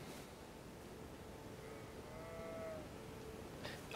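Goats or sheep in the Elden Ring game world give a faint, drawn-out bleat over a low ambient wash of game background noise, with a second soft call near the end.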